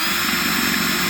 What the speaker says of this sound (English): Then we're gonna take our drill.